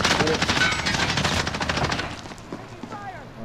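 Rapid automatic gunfire in a Rainbow Six Siege match, loud and dense for the first two seconds, then thinning out, with voices talking over it.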